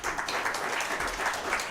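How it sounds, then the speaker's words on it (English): Applause from an audience after a live show, a short, dense wash of many hands clapping at a steady moderate loudness. "Give Paul another round of applause."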